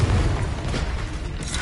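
Confringo, an explosive fire spell in Hogwarts Legacy, bursts in a loud, dense blast with a sustained rumbling roar that holds steady and then begins to fade.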